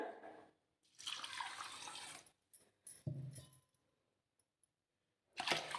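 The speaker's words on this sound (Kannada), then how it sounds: "ಇದಕ್ಕೆ ಇವಾಗ ನೀರು ಹಾಕೋಣ" Water is poured into a vessel of washed rice being soaked for dosa batter, coming in a few close splashing bursts separated by quiet pauses, with no talk.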